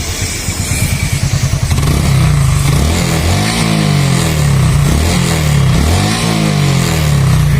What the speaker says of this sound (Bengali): চাবিটা অন করা আছে, এবার সেলফ মারবো।